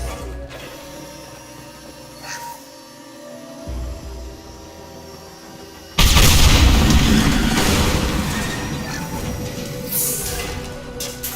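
A tank blown apart in the Mass Effect 2 game: quiet mechanical rattling and clicks, then a sudden loud, heavy blast that rumbles on and fades over several seconds.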